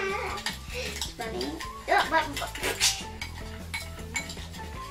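A spoon clinks and scrapes in a container as a child stirs a glitter lava lamp mixture, repeated small taps running under a short spoken remark and background music.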